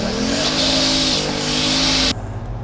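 A turbocharged McFarland-built car engine revs hard and loud up close, holding a steady high-pitched drone with a turbo whine for about two seconds before cutting off sharply.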